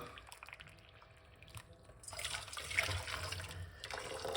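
Water trickles and splashes into a vessel, growing louder and fuller midway as the pour strengthens; close, with no talking.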